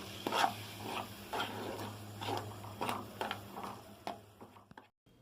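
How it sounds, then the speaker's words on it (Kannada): A spoon stirs chilli powder into oil for mango chutney, giving a close run of about eight rhythmic scraping strokes over a low steady hum before stopping abruptly. "ನಾಲ್ಕು ಚಮಚದಷ್ಟು ಖಾರ ಪುಡಿ ತೊಗೊಂಡು ಈ ಎಣ್ಣೆಗೆ ಹಾಕೊಳ್ಳಿರ್ತೀನಿ ಇದನ್ನೇನಿದೆ ಒಮ್ಮೆ ಮಿಕ್ಸ್ ಮಾಡ್ಕೊಳ್ಳೋಣ"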